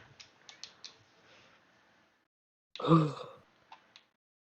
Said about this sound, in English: Nah, I was just yawning, little bro.